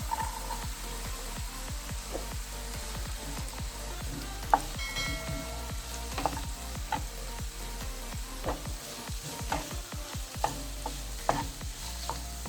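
Chopped shallots and green chillies sizzle in a pan for Kerala mutton curry, a steady frying hiss with repeated scraping taps of a spoon stirring against the vessel, close and fairly quiet.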